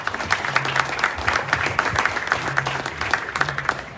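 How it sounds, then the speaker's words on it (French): Audience applause welcomes a professor at a French-language café philo event on Haitian history, a steady dense patter of many hands clapping that holds for the full four seconds at a fairly even level. "Sous vos applaudissements, s'il vous plaît,"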